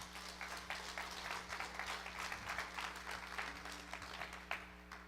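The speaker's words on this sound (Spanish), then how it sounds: "Dele un aplauso al Let's Señor. give the Lord a hand." A church congregation applauds during a bilingual Spanish-English worship service, giving a steady wash of many hands clapping at a distance with a low hum underneath, sustained and moderately quiet.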